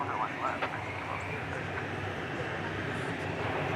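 An airliner takes off from Dallas Fort Worth airport, its engines producing a sustained, fairly distant roar with a steady level throughout, and faint chirps from birds nearby.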